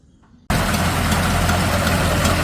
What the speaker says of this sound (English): There we have it, she's idling on her own.